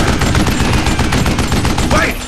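Relentless rapid gunfire in the Western shooter Call of Juarez Gunslinger, a loud unbroken rattle of shots close up, with a brief voice near the end.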